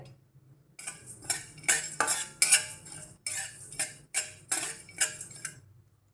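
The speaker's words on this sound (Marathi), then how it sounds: "धने एक चमचा डाळ एक चमचा जिरे अर्धा चमचा मोहरी छान असं भाजून घेऊया" Coriander seeds, dal, cumin and mustard seeds dry roasting in a pan over medium gas, with a spoon repeatedly scraping and clinking against the metal in quick irregular bursts, close and moderately loud with no talking.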